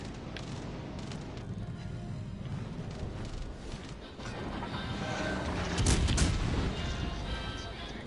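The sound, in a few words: 15-inch naval guns firing in a video game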